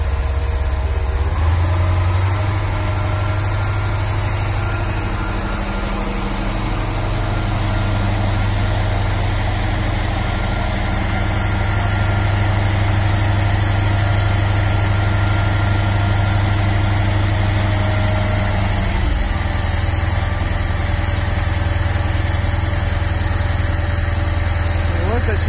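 A vehicle engine idles steadily and loudly for the whole stretch after starting, a constant low drone at a tile delivery, with occasional voices nearby.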